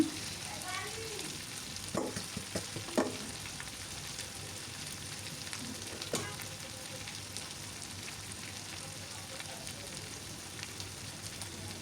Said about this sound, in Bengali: এখন খুব আঁচটা লো করে দিয়েছি একদম কম আছে এখন রান্না করে নিচ্ছি কিছুক্ষণ